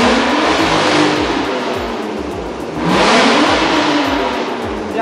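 A Honda Jazz GE8 car engine revs loudly and close, climbing in two sustained surges with a short dip between them, with no voices.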